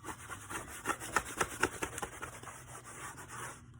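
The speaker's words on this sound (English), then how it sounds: "I buff it out." A cold wax finish being buffed by hand, a soft rhythmic rubbing of about a dozen quick strokes, close and quiet, fading out at the end.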